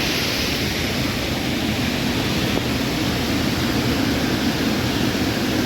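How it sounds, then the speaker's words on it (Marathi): A swollen river after heavy rain rushes past in a steady, loud broadband roar. The churning water is close and continuous, with no voices over it. "प्रवाह खूप वाढलेला आहे"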